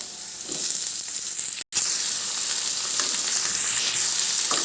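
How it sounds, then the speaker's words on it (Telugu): Ridge gourd pieces and green chillies fry in hot oil, a steady loud sizzle that holds throughout with one brief cut to silence. "మొత్తం పచ్చిమిర్చి ఇలా మొత్తం వేగిన తర్వాత మనం ముందే కట్ చేసుకున్న బీరకాయ ముక్కలు వేసుకోవాలి"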